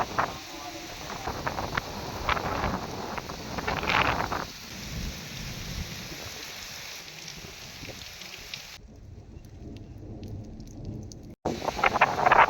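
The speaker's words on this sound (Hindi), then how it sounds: "तेज़ बारिश की बहुत तेज़ हवा।" Heavy rain pours down amid strong gusting wind and rumbling in Multan, with a voice speaking at times over the storm.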